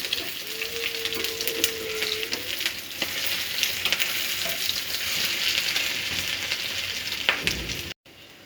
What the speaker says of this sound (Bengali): এক পাশ হয়ে গেছে, আমি আর এক পাশ উল্টে দিচ্ছি।